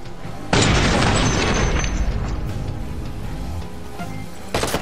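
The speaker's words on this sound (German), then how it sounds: "Wieso sprengt ihr euch gegenseitig mit Granaten in die Luft?" A sudden loud grenade explosion in the video game Watch Dogs bursts out, followed by a long rumbling, crackling tail that fades, then another blast begins at the very end.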